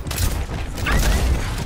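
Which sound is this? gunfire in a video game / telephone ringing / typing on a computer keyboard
gunfire in a video game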